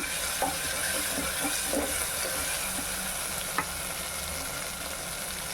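Tamarind-leaf and dried-fish curry frying in a clay pot over a gas flame, a steady broadband sizzle with a few soft scrapes and taps of a spoon against the pot.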